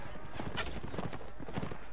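Horse hooves clip-clop at a steady gallop in the Mount&Blade Warband video game during a night battle, a continuous close rhythmic drumming of hoofbeats with clashing combat noise mixed in.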